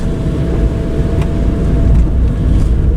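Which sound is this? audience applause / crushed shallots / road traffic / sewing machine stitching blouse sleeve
road traffic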